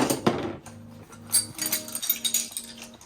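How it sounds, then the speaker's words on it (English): Metallic clinks and rattles as a ratchet from a Toyota 76 series Landcruiser tool kit is picked up and handled, a sharp clank near the start followed by lighter repeated ringing clinks, close and alone. "Ratchet."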